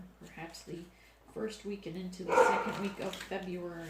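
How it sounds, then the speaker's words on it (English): Dogs bark and yip at home, a mix of sharp barks and a whimper, moderately close, heard under someone talking steadily. "I apologize for my dogs."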